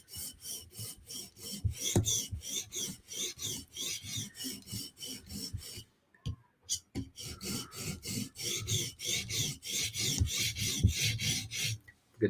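Steady back-and-forth rasping strokes of a blade drawn across a sharpening stone to remove the burr, a close, even rhythm of about two strokes per second, pausing briefly midway before resuming.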